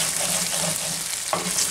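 A tortilla wrap sizzles in a cast iron pan, a steady close frying hiss with crackling texture throughout and a brief clank partway through.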